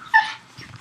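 A pet dog gives a brief, fairly close whimpering yelp, followed by a faint low rumble, with no talking.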